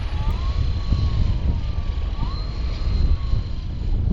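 Small airplane landing on a runway in a crosswind, a steady droning engine with a faint whining tone over low rumble, heard from inside the aircraft.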